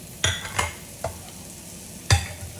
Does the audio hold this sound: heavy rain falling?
no